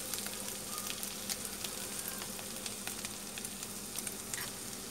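Turmeric fries in a pan for tawa pulao over low gas, a soft, continuous sizzle with faint scattered crackles and occasional light stirring clicks, quiet and close.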